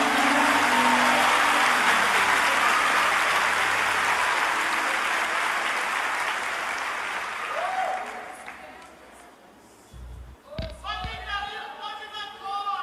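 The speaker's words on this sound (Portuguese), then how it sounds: "Se um aplaudir, tu aplaude, que é para não deixar ele no vácuo." A church congregation applauds, steady broad clapping for several seconds that fades out, then voices and short musical or spoken sounds take over near the end.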